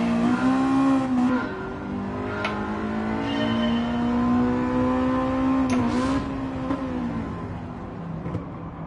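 A car in Gran Turismo 7 builds revs with a steady droning engine tone that dips briefly at each gear change, loud and close, under faint background noise.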